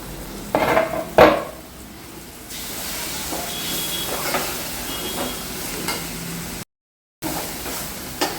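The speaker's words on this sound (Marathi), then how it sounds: "आता मी जे वांग चॉप करून घेतलेलं आहे ते ऍड करते" Chopped eggplant tumbles into a hot pan with cilantro for Marathi vangyache bharit, followed by scraping and stirring with faint sizzle; a couple of sharp early clatters, then steady mixing noise, with no talking.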